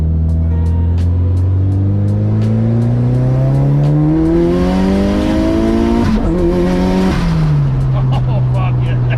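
A Mitsubishi Evo with about 400 wheel horsepower accelerating hard in fourth gear, heard from inside the car as a loud, steadily rising engine roar that dips briefly at a shift and then keeps pulling.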